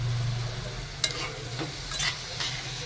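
Carrot halwa cooking in homemade village ghee, a continuous low sizzle broken by a few light scraping stirs, with no talking.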